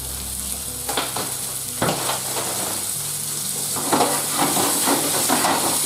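Floured meatballs frying in oil and being kept moving in the pan, a loud close sizzle broken by repeated stirring scrapes and knocks.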